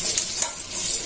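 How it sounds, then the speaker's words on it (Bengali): Chopped onions sizzle and crackle steadily in hot oil in a pan, a bright, close frying hiss with light stirring throughout. "তেলটা গরম হয়ে গেছে, আমি পেঁয়াজটা ভালো করে ভাজা নেব।"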